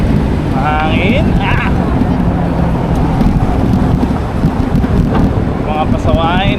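Strong wind buffets the microphone in a constant loud rumble while cycling to work, with traffic sounds and brief voices mixed underneath.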